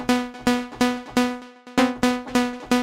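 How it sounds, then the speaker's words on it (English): Bright plucked saw synth lead notes for Afro House repeat in a steady rhythm on the root note, each short stab decaying quickly, played alone without any voices. "Now let's add that typical Afro House plug lead sound"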